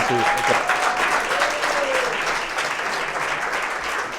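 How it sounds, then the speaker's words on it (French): A crowd applauds with dense, steady clapping that fills the space, while a voice briefly speaks over the start. "Vous pouvez encore applaudir quand même"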